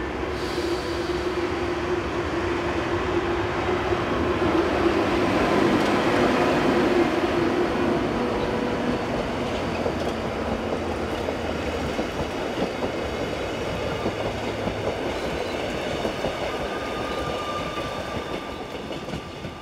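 A passenger train from Landquart to Davos Platz, with locomotive 613 at the head, departs with steady rumbling and rhythmic clickety-clack of wheels on rail, faint squeals and a gradual fade near the end.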